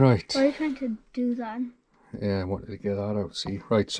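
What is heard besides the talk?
No everyday noise stands out behind the speech.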